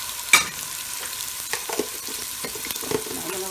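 A spoon stirring tomato paste with onions and garlic in a cooking pot, with a sharp knock at the start, then a few soft scrapes and a faint sizzle, close and quiet.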